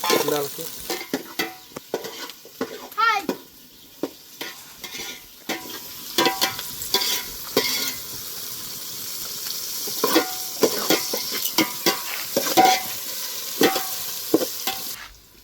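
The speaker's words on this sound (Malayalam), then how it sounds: "സബോള, നന്നായിട്ടൊന്ന് വതക്കിയെടുക്കാം" Onions sauté in a hot pan with a steady sizzle, broken by repeated close scrapes and clacks of a spoon stirring them.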